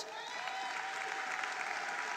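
An audience at a national school exam results announcement claps steadily for an award winner, a dense, even round of applause that holds throughout with no pause.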